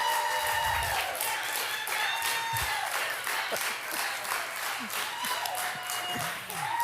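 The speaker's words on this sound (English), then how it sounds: "Give her a big round of applause." A church congregation applauds a newly introduced children's pastor, steady dense clapping filling the room throughout with a few faint cheers.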